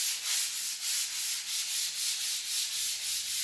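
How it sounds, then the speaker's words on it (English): Rhythmic hand sanding of bathroom walls during a renovation, a dry scratchy rasp repeating in even strokes about three times a second, close and steady with no talking. "the walls in the bathroom have been finished sanding down"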